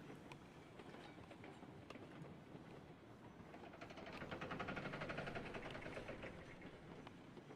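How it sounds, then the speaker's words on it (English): A log train rolling along rails in a video game, a steady rumbling run with rhythmic clickety-clack wheel beats that swell in the middle, fairly faint and alone. "Right, I'll jump into the log train and get some logs."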